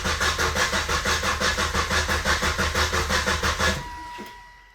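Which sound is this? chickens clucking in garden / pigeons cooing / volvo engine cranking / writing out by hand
volvo engine cranking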